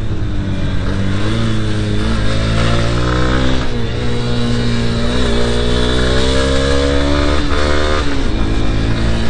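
A Honda Hornet 2.0 motorcycle engine revs hard at high RPM while riding, a loud continuous drone whose pitch climbs steadily through the gears with brief dips at shifts, close and dominant throughout.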